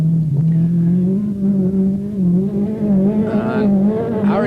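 Engine of a Citroen ZX Rallye Raid rally car on the 1991 Pharaohs Rally, a loud sustained drone close by, wavering in pitch as the car holds speed, with no talking.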